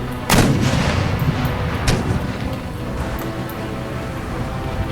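Mortar artillery fire in the strategy game Empire: Total War, sharp booming reports, one loud near blast followed by several fainter distant shots over a constant battle rumble.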